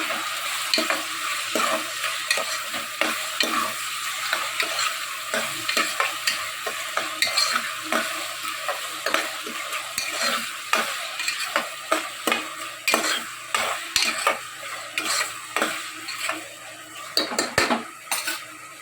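Mutton curry being stirred and fried in a pan, with a utensil scraping and clinking repeatedly against the metal over a steady low sizzle, close and fairly loud throughout with no talking.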